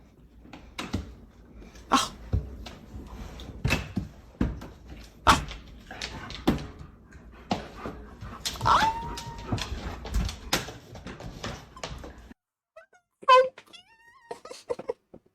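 A dog whimpers and yips over and over in short high cries, close and fairly loud, with quick uneven bursts and brief pauses, then a few final whines after a short silence.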